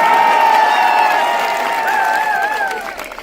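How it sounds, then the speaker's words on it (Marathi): Audience at a Marathi stage felicitation event applauds on the host's call, a sustained wash of clapping and crowd noise with a steady tonal line running through it, evenly loud before easing slightly toward the end. "एकदा जोरदार टाळ्या वाजवा"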